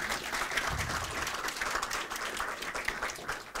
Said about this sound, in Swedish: Tackar vi Robert med en stor applåd.